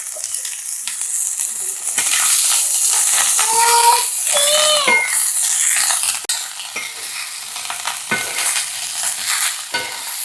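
Drumstick flowers frying in a spice masala of onion and tomato sizzle loudly and steadily while being stirred, with scraping strokes and a brief high squeak midway.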